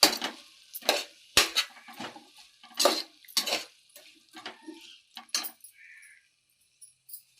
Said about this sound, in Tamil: அப்படியே இதோட வந்து நம்ம உருளைக்கிழங்கும் சேர்த்துக்கலாம். அப்படியே நல்லா கலந்துக்கணும்.